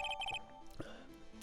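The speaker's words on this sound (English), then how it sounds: "I didn't think it was weird that we hit call and heard the ringtone." A phone ringtone in the video game Ace Attorney, a short repeating electronic trill in quick bursts at the start, then fading into faint background tones without speech.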